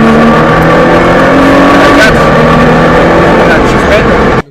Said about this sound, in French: là t'as écouté la Nissan GTR